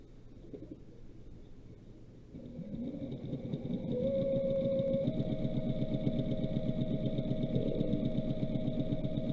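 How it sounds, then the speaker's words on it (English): A sewing machine stitches fabric while a cat quilt block is made, starting with a low hum and building to a steady rapid mechanical whir and rattle that holds for several seconds, with no one talking. "I'm going to sew right here so that this edge meets"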